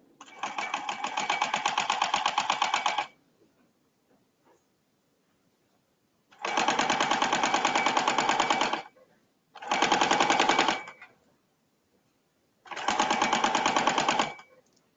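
A sewing machine stitches a seam in shredding ballet shirt fabric, running in four loud, fast rattling bursts separated by near-silent pauses, with faint clicks between runs.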